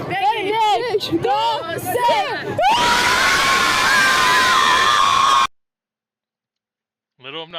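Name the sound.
Iranian crowd cheering and clapping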